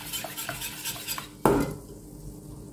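Utensil scraping and clinking against a bowl while stirring chocolate pastry cream with cocoa, with one louder knock partway through, close and fairly quiet.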